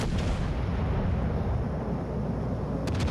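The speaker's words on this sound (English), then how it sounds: "We can see Mackensen's powerful main battery guns." Heavy 13.5-inch main battery guns of the German battleship Mackensen boom in a dense, continuous barrage, loud and close, with rumbling low blasts rolling one into the next and a couple of sharp cracks near the end.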